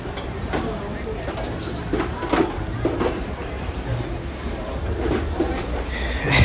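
A Disneyland train ride, with a steady close rumble of wheels on track and faint rhythmic clicks running throughout, a loud, dense roar with no clear breaks.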